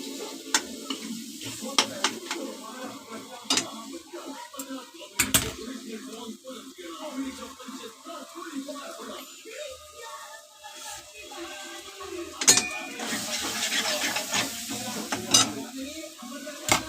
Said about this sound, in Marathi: वाटण चांगलं तेलामध्ये फ्राय करून घ्यायचंय